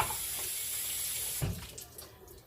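Running tap water hisses steadily as vegetables are rinsed under it in a kitchen sink, then the flow is cut and a few clattering handling sounds follow.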